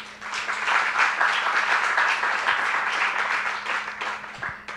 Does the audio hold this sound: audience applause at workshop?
yes